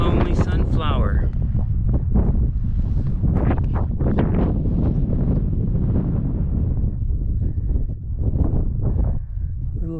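Strong wind buffeting the microphone outdoors at Badlands National Park in South Dakota, a continuous loud roaring rush with gusty swells throughout.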